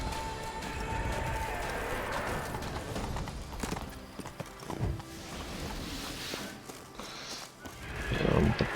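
A horse gallops in The Witcher 3, giving quick, rhythmic hoofbeats mixed with game effects and thumps, moderately loud and irregular in places.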